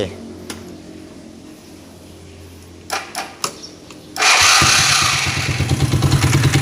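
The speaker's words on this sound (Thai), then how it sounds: "ไปติดเครื่องก่อนนะ ติดเครื่องฟังเสียง อีกที" Honda Click 110 scooter with a swapped-in Yamaha Mio 115 engine, some clicks and cranking, then the engine catches and runs with a loud, close, rapid idle putter; a voice is heard briefly.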